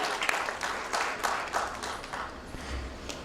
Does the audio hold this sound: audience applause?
yes